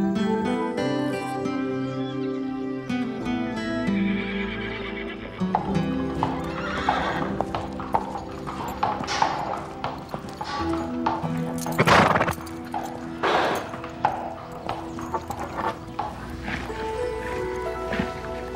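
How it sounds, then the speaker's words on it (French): Horses at a race gallop with steady clip-clopping hooves and a neigh, set against a bed of music, with sharper hoofbeat bursts building in the second half. "je parie que nous allons avoir une sacrée course de chevaux"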